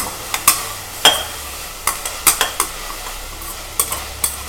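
A spoon stirs turmeric into rice and dal frying in a pan, scraping and clinking a dozen times at an uneven pace over a steady soft sizzle, close by with no talking.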